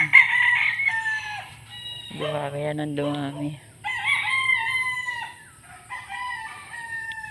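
Gamecocks raised for fighting crow loudly and close by, with one long drawn-out crow in the middle and clucking around it. A person speaks briefly at the start.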